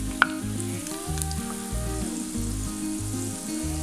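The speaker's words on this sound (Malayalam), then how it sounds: "അതിന് ശേഷം നമ്മൾ കോട്ട് ചെയ്ത് വെച്ചിരിക്കുന്ന ചിക്കൻ്റെ പീസസ് ഇട്ട് കൊടുക്കാം." Coated chicken pieces for Chicken 65 frying in hot oil, a steady close sizzle throughout with one sharp clink near the start.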